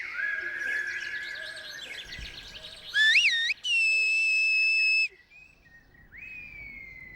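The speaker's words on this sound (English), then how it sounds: "they communicated via the whistling language" Loud, piercing whistled tones of Silbo, the Canary Islands whistled language, sliding and warbling in pitch, one long sustained whistle in the middle, over a faint outdoor background.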